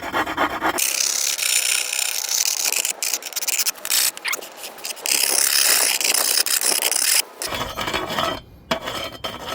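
A rough piece of gravel stone scraped back and forth over a granite slab, giving a loud, continuous gritty rasping with uneven strokes and brief pauses, heard close up with no talking.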